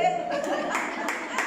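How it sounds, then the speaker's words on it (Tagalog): A congregation in church claps in a quick, even rhythm behind a voice that speaks or calls over it during a sermon. "Kaya yung palakpak natin dapat totoo."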